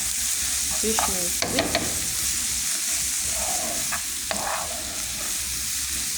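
Onion and spinach frying and being stirred in a pan, a steady close sizzle with scraping spoon strokes scattered across it, for a healthy spinach dish.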